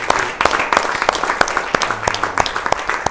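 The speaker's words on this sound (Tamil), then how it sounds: "ஒரு பெரிய கைத்தட்டல் கொடுத்தலாம் தந்தை அவர்களுக்கு" An audience claps for a priest at a Tamil celebration of a show's 200th episode, brisk scattered clapping with sharp individual claps, fairly close and moderately loud.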